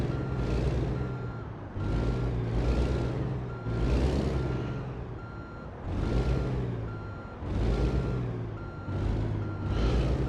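A truck backing up in American Truck Simulator, its reversing alarm beeping in a steady repeating rhythm over the low, continuous drone of the engine.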